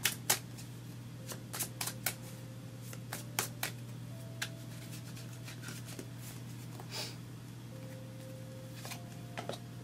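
Tarot cards being picked and shuffled by hand, a run of crisp, quiet riffles and flicks that come in irregular bursts over a steady low hum, with no talking.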